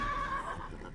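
A horse neighs in the video game Wartales, a loud, close whinny with a wavering tone filling the full second, with no talk over it.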